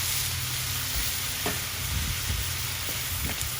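Cheesesteak ingredients fry in oil on a Blackstone griddle, a loud, dense, unbroken sizzle with light scraping and spatula clicks scattered through it.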